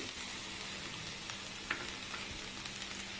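Drumstick leaves and moong dal frying in a pan give a steady, faint sizzle with a couple of small clicks from stirring, heard close and alone.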